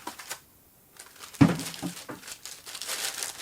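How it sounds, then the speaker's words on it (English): A plastic bag crinkles and rustles close by as it is removed from a Thorens TD 102 A turntable platter after a brief quiet, with scattered crackling bursts continuing to the end. "If we take that final plastic bag off the platter"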